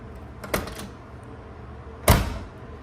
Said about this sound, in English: You gotta slam it, and then watch, it'll drop.